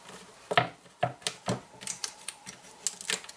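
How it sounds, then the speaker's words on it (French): A series of sharp mechanical clacks and crunches, irregular and close, as a manual die-cutting machine cuts through paper, with no talking. "Le bruit c'est normal, ne vous inquiétez pas, c'est parce que ça coupe le papier."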